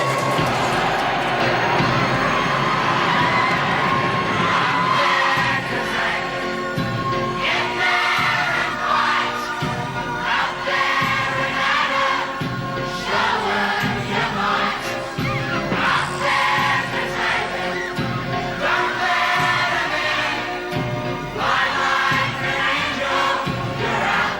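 Studio audience at an Australian Countdown music television show cheering and shouting continuously, a dense loud crowd roar with yells throughout.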